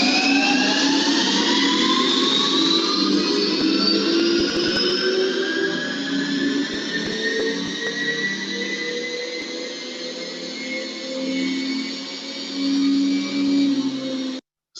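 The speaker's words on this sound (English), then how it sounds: "So I hope you can hear the dyno in operation there, and it is noisy" A dynamometer runs loud and steady, driving a test platform at 120 km/h with a whirring, jet-like whine whose tones climb slowly, continuous for about fourteen seconds before cutting off abruptly.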